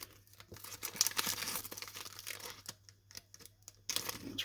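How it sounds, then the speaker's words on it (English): A 1993 Donruss baseball card pack wrapper is ripped open, giving close, crisp crinkling and tearing in uneven bursts over several seconds with no talk. "It's ripped, so I can't see what it says."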